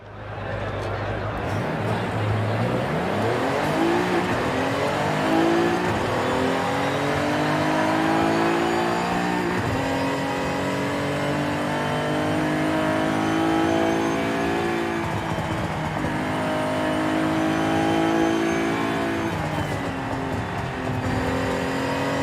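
A 1982 DeLorean DMC-12 revving hard on a road drive, with the engine climbing through several gears in rising sweeps and a steady, loud drone from inside the car. Someone talks over it at times.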